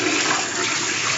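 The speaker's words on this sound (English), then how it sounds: "Alright, so now we're going to start with rinsing" Running water from a tap pours steadily over hands being rinsed at a sink, a continuous close hiss and splash with no talk.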